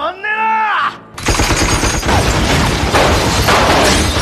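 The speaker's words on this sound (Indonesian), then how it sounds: "Mereka berdua dihujani tembakan dari senjata otomatis milik Kanryu." After a brief cry, a rapid burst of automatic gunfire erupts and keeps rattling loudly for several seconds.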